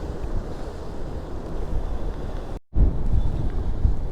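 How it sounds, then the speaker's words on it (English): Sea waves crash against rocks on a windy coast at San Telmo, Mallorca, a continuous loud roar with heavy wind buffeting the microphone and a brief dropout midway. "enjoying watching the waves crashing against the rocks"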